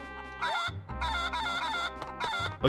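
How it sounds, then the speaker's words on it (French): A chicken in the video game Four Swords Adventures clucks and crows in several bright, close bursts with brief gaps between them, alone without talk. "je vais ramener la poule"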